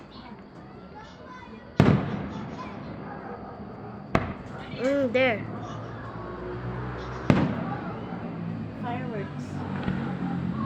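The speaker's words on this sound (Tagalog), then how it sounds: "They're starting fireworks in other places also." Fireworks explode in three sharp, loud bangs spaced a few seconds apart, echoing over background crowd noise and whistling, while a voice speaks briefly.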